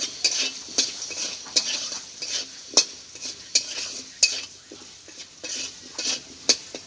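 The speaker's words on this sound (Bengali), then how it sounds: "আলুটা আমার ভাজা হয়ে গেছে তুলে নিচ্ছি" Potatoes fry in oil in a pan while a metal spatula stirs them, giving repeated sharp scrapes and clinks at an uneven, steady pace over a soft continuous sizzle, close and moderately loud.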